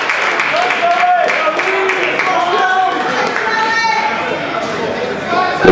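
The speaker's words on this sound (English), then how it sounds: "Now, if you notice, the crowd will be chanting something." A crowd at a Smash Wrestling show chants and cheers in a dense, lively wash of many voices, with scattered claps and shouts throughout.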